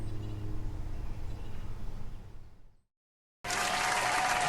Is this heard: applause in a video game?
yes